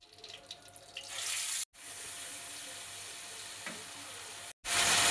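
Onion and tomato paste hitting hot oil in a pan for a prawn kalia, a loud, steady hiss of frying that cuts out briefly twice, with no talk.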